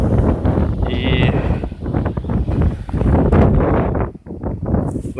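Strong wind gusts through trees in Bendery's Borisovka district in July 2017, a loud, broadband roar that surges and dips with each gust and buffets the microphone, with no talk over it.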